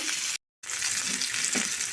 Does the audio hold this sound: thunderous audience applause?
no